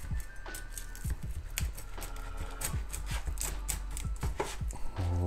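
A knife chops through cooked pork ribs on a cutting board for a quick hangover soup, giving a steady run of sharp, close, rhythmic cuts with faint kitchen ringing behind them.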